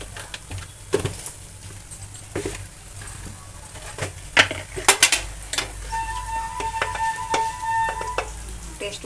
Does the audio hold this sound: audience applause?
no